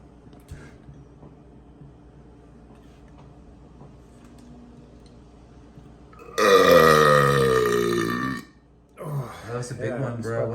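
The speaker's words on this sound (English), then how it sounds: "Yeah, fucking powerful ass fucking burps." A man lets out a loud, powerful burp lasting about two seconds, then a second shorter one. Both are close, with a quiet stretch before them.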